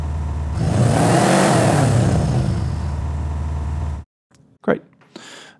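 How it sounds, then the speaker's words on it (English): Car exhaust revving sample: a loud engine rev that builds and swells for several seconds, then cuts off abruptly, followed by a few short bursts and faint sounds. "Now let's add the exhaust."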